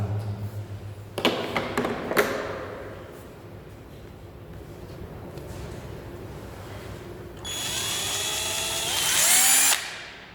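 A cordless power drill driving screws, fitted with bits, sockets and an angle attachment for tight curved spots, gives several short sharp bursts early on and then a longer loud whirring run that rises in pitch near the end.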